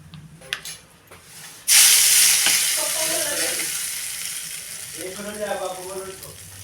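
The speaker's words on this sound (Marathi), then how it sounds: "आता हा गॅस मी बंद करते आणि हे गरम गरम फोडणी आपण कोबीच्या चटक्यावर ओतून घेऊया" Hot tempering of spices in oil poured onto a garlic-free, onion-free shredded cabbage salad bursts into a loud, sudden sizzle after a few faint clinks, then fades to a steady crackling hiss while someone talks briefly over it.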